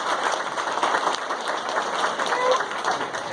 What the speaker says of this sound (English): please give your parents and all of those who are involved a round of applause